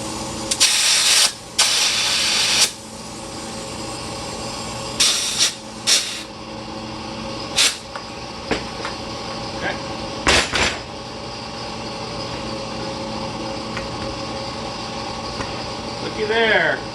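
Air hisses through a nozzle into a mini bike tire in several short, loud bursts separated by quieter gaps, heard up close in a workshop.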